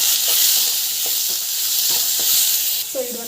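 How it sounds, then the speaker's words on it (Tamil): Three chillies fry in a pan with a loud, steady hiss of hot oil, with a few soft stirring taps and scrapes close by. "ஸோ மிளகாய் 3 வந்து போட்டு வதக்கலாம்."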